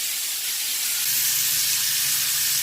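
Brisket searing in a hot pan, a steady close sizzling hiss that holds evenly throughout with no voices over it.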